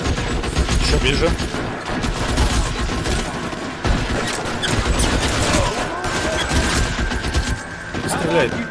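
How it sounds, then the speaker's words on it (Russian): Dense gunfire erupts in the crime video game L.A. Noire, with rapid volleys from automatic rifles and pistols cracking in loud overlapping bursts throughout, and someone talks over the shooting. "Стреляет."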